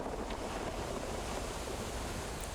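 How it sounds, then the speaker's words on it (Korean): Waves wash over large, rounded watermelon-sized pebbles on a pebble beach at Wando, a continuous soft surf rush with light wind and no voices. "수박만한 큰 몽돌들이 구르는 왼쪽 해변은 파도가 어루만지고 나면 끄르르 꺽꺽 바리톤 화음을 낸다."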